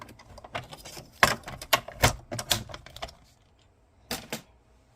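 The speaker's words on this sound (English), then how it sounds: "So on this longer section, I want to die cut" A die cutting machine cuts a paper card tag. Irregular, close clacks and rattles come in bursts, then a pause and a short final clatter.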